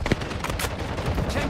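Gunfire in the mobile video game Warzone Mobile rings out in rapid bursts of sharp shots over a busy battle bed, with voices briefly heard in the mix.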